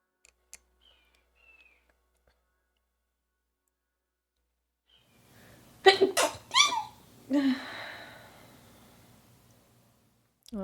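A few quiet clicks, then a burst of sharp, close sneezes in quick succession, with a breath and faint room noise afterwards.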